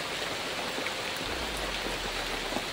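Steady rain pours down in a wet forest beside a stream, a dense continuous hiss of drops with a low rumble of running water underneath, close and enveloping with no voices.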